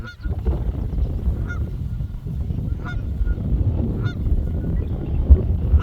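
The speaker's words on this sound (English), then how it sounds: "The geese there." Geese honking repeatedly at a moderate distance in a large marsh, calls overlapping against a steady outdoor background.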